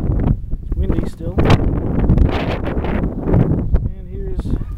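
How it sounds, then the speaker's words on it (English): Steady wind roars against the microphone outdoors after a blizzard, around a house and an unplowed, snow-covered road. It gusts loudly and keeps up without a break. "it's windy still"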